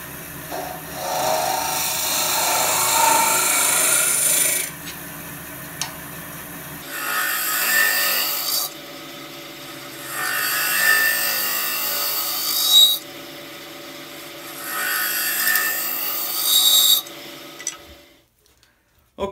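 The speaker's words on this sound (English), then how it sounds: "Just going to use a round nose scraper now to clean up the bottom of the cup." Round nose scraper works the bottom inside of a wooden goblet cup on a lathe, making rough scraping bursts in several passes separated by short pauses before the lathe winds down.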